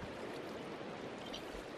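Water poured out of buckets in Minecraft makes a steady rushing, trickling wash that continues evenly throughout, soft and without voices.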